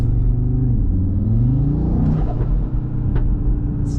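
A remapped Audi RSQ3 with a Stage 1 tune gives a deep, loud engine rumble that rises and falls as it revs. Faint pops and crackles come near the end.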